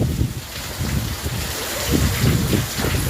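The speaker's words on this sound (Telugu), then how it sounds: "అసలు ఫుల్ రెయిన్ బాగా ఉంది." Heavy summer rain pouring down outdoors, a dense, steady roar of falling water with gusty wind noise, no talking.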